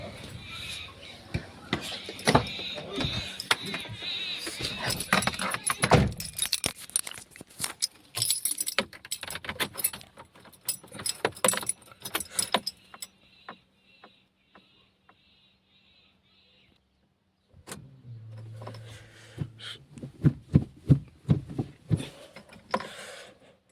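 Car keys jangle and clatter repeatedly up close, then after a quiet pause a car's engine starts with a brief low hum amid more key and handling noises.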